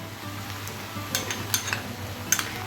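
Ground coriander-leaf paste goes into a pan of mustard paste and vegetables over a low flame, setting off a soft, steady sizzle with a few light clinks of a utensil against the pan.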